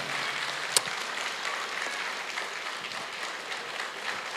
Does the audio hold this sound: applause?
yes